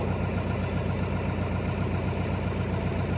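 A Lovol 504 tractor engine idles cold with a loud, steady diesel drone, its even rhythmic throb continuing unbroken and close by.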